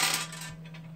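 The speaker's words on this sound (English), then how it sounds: "Rolling dice to see how much tapatio each person gets." Dice rolled during a hot chips challenge make one brief, close clattering rattle that fades out within a second, with no voices.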